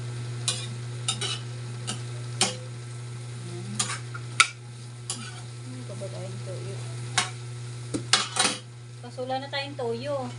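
A spoon stirs adobong kangkong (water spinach adobo) in a pan, with repeated sharp scrapes and clinks of metal on the pan over a steady hum, and a brief voice near the end.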